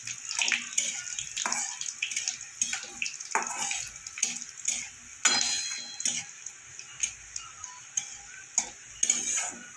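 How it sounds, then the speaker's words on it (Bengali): Chopped ginger and green chili drop into a hot oil tempering for a vegetarian dahi paneer, giving close, irregular crackling sizzles and clicks of stirring in a quiet kitchen without talking. "এবার আমি দেবো কুচানো আদা আর কাঁচা লঙ্কাটা দিয়ে দেবো।"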